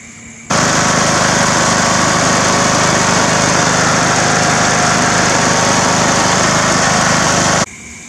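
A free Craftsman lawn mower, just reassembled, runs steadily at close range with a loud, constant engine drone that starts abruptly and cuts off near the end, with no voices.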